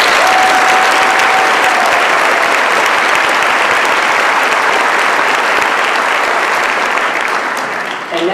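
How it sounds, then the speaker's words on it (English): A large crowd at a high school graduation ceremony applauds loudly and continuously for several seconds, a dense wash of clapping that tapers slightly at the very end, with faint voices beneath. "Won't you join me in giving them a round of applause for this?"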